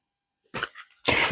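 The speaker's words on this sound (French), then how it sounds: "je vais éternuer." A single close, abrupt sneeze: a brief intake and then a sharp, loud burst.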